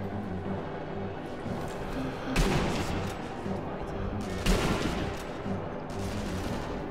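Two heavy rifle shots ring out in Sniper Elite V2, spaced about two seconds apart over a steady low game rumble, each a sharp blast with a short echoing tail.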